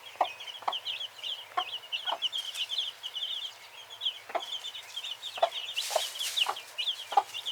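Backyard hens cluck in short, repeated bursts, several birds close by making soft calls and sharper clucks at irregular intervals with no one talking.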